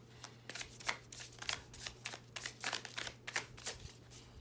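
Tarot cards are shuffled by hand in quick, close riffling bursts, a rhythmic series of soft papery flutters with short pauses between them, quiet and alone.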